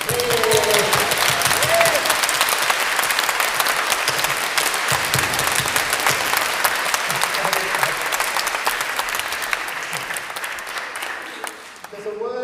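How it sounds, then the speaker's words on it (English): A large audience at a Buddhist talk claps vigorously and continuously, a thick roar of hands with faint voices mixed in, slowly easing before a final flurry. "you can clap"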